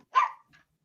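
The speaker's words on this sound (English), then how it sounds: "I apologize for the dogs." A single sharp dog bark, fairly close and loud, followed by a faint short second yelp, with silence around it.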